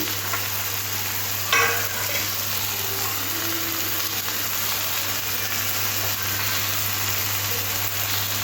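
Chopped tomato, minced garlic and chopped green chili sizzle with onion in a pan for an egg bhujia, stirred with a few spatula scrapes. The frying sits over a steady low hum, close and continuous, with no speech.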